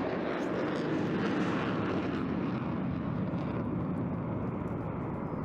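A steady, loud roar from a Eurofighter Typhoon's two EJ200 turbofans at an airshow display, with broadband rumble, sustained throughout without pause, like a fast jet passing close overhead.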